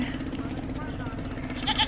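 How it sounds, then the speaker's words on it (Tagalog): A goat bleats in a wavering cry in rural Cagayan Valley, Philippines, with a higher nearby bleat toward the end, over a steady background hum and faint voices. "Tinatawag ka na yung kambing mo."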